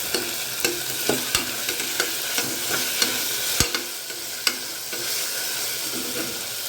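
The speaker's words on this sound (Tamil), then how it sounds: "நல்லா ஃப்ரை பண்ணிக்கலாம்." Vegetables for pav bhaji sizzle steadily in a hot pan while a utensil scrapes and taps against it in a loose, repeated stirring rhythm, close by.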